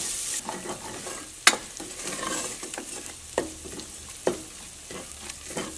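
Masala fries in a deep pressure cooker with a soft sizzle, punctuated by irregular scraping strokes and a sharp metallic clack of the spoon against the rim, close and clear without speech.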